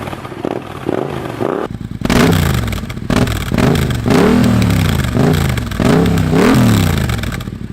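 A Yamaha MT-07 motorcycle engine revs hard and close, rising and falling in repeated throttle blips over a deep, rumbling idle.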